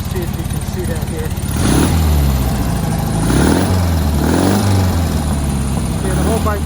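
A motorcycle powered by a Volkswagen car engine revs repeatedly, its deep, loud rumble swelling and falling in several rising sweeps over a rough idle, heard up close.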